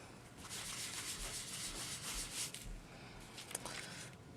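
A sponge polishes ink off the raised embossing of a handmade card, making a soft, continuous swishing rub close by that runs unbroken and fairly quiet, with no voices.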